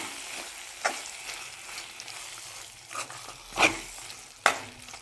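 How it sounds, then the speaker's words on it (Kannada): A spoon stirs pineapple halwa with sugar, crushed cardamom and cashews in a pan, giving soft scraping strokes over a faint sizzle, with a few sharper knocks against the pan. "ಮಿಕ್ಸ್ ಮಾಡ್ಕೊಳ್ತೀನಿ"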